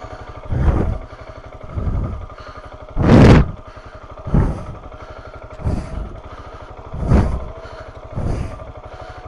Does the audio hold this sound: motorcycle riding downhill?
yes